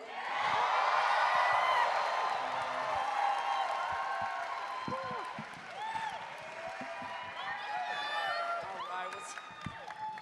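A live studio audience cheers, whoops and applauds for Colman Domingo's entrance, loud at first and slowly thinning into scattered claps and shouts.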